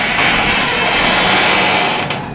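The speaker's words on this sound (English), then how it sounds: "Does your garage door sound like this?" A noisy garage door in need of repair grinds with a steady, loud broadband rasp that holds for a couple of seconds before easing slightly at the end.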